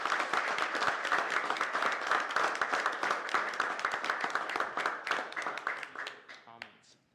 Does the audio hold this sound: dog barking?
no